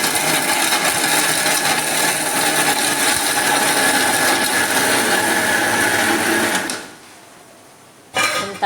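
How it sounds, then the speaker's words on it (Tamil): A mixer grinder whirs loudly and steadily while grinding grated coconut with water for coconut milk, running continuously for about seven seconds before cutting off, then a brief burst restarts at the end. "இப்போ நம்ம நல்ல பால் போல் அரைக்க போகிறோம்."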